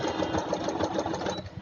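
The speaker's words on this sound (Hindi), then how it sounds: "अब मैं इसके ऊपर सिलाई कर लूँ।" A sewing machine stitching piping onto a kurta yoke runs steadily and close, with a fast, even mechanical rattle throughout and no voices.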